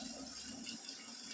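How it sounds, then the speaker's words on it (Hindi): Water pours from a tank tap into a bucket at home, a continuous close, hissing rush with no voices over it. "ये पानी भर रहे हैं टंकी की बाल्टी है"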